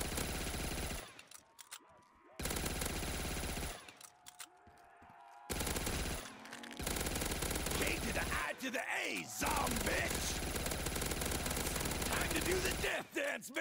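Rapid automatic gunfire in a zombie video game bursts out in loud volleys, broken by short silent gaps, with overlapping shots and mechanical clatter through the later half.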